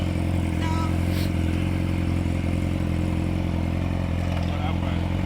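A 2006 Yamaha R6 sportbike fitted with a Toce exhaust idles with a steady, droning engine note, with a voice speaking over it and the pull away down the street not clearly shown.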